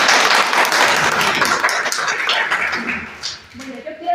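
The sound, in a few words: applause from audience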